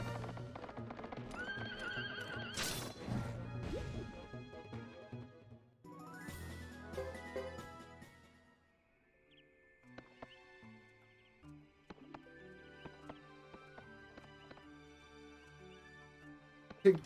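Horse hooves clip-clop steadily with whinnying neighs from the video game Suikoden III, mixed with game effects and music, moderately loud throughout.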